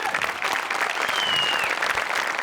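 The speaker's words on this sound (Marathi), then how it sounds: "आर्ट डिपार्टमेंटसाठी एकदा जोरात टाळ्या वाजवूया" Studio audience at a Marathi comedy sketch show breaks into loud, sustained clapping that stays dense and even throughout, with no talk over it.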